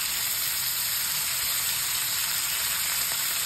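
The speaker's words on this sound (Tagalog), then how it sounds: "Ipa-fry ko lang siya." Pork steak sizzles steadily in a hot pan, a close, continuous bright hiss of frying with no breaks and no talking.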